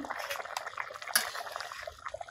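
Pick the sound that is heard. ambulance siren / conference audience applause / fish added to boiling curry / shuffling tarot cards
fish added to boiling curry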